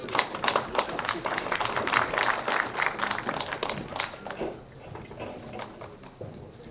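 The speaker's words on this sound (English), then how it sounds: "Can we please give her a round of applause?" Audience applause at a Congolese community's 64th DR Congo independence day event, a clatter of many hands clapping, louder at first and thinning out toward the end.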